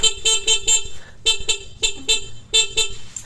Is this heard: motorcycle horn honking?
yes